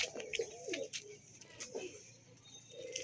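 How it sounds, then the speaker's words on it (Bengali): Pigeons coo softly on a house rooftop, low repeated murmuring calls over faint outdoor background noise. "তো একটা পায়রা এসেছে, আর এই দেখো মাথায় পায়রা উঠছে বাড়ির।"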